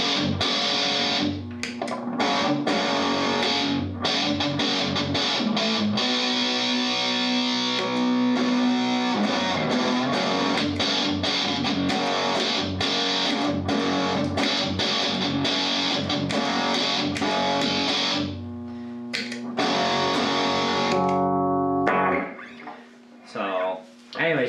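A distorted electric guitar through a Joyo JF-17 Extreme Metal pedal on its boost side rings out in sustained, gritty chords and riffs, loud and close, with a brief drop near the end.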